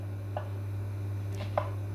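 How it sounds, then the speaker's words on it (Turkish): A few sparse knife taps on a cutting board while chopping onions into chunks, quiet and irregular, over a steady low electrical hum. "Böyle kuşbaşı şeklinde doğruyoruz soğanları."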